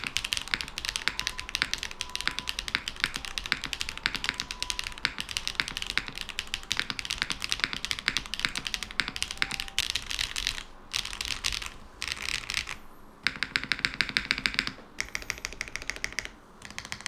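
Fast typing on a custom mechanical keyboard fills the span, a dense run of crisp close key clacks with brief pauses and bursts, no talking over it.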